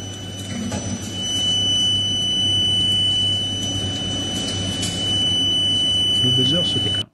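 Alarm buzzer of a Begode Master electric unicycle, a steady high-pitched beeping tone that runs continuously over several seconds under a noisy background.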